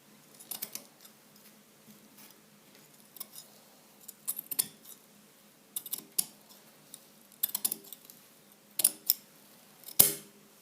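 Scissors cutting fabric for the sleeve of an Igbo blouse, a series of crisp snips in small clusters with pauses between, close and fairly quiet, with no talking.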